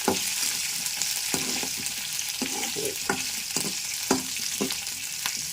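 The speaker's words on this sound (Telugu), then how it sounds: "అలా ద్వారగా వేపేసుకోవాలన్నమాట మినపప్పు" Continuous hiss of urad dal (black gram lentils) frying in hot oil, broken by a series of light spoon scrapes and taps as they are stirred.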